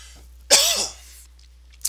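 A single close, loud cough right into a microphone, a sharp burst with a short throaty tail, alone against quiet room hum.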